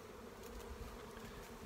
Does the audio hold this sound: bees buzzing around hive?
yes